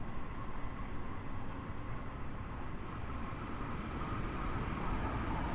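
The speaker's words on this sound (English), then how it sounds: "Oh look, another train going past us I think, but I can't really see." A steady, dense rumble fills a long rail tunnel in Train Sim World on the Long Island Rail Road route, as another train rushes past unseen, continuous and loud with no distinct breaks.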